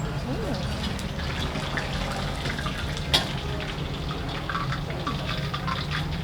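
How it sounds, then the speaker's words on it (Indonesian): Hot oil poured over a seafood dish in a Banda Aceh restaurant kitchen, a continuous sizzling, crackling hiss with liquid trickling sounds and a brief clink, steady throughout amid faint background voices. "Habis itu kita siram pakai minyak panas."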